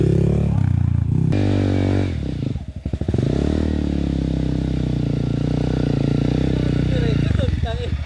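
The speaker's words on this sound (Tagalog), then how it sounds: "Maahon pa yung motor mo, ha?" A motorcycle engine drones steadily while climbing uphill around Floridablanca, Susong Dalaga, with a brief rev and a clatter midway, close and loud under people talking throughout.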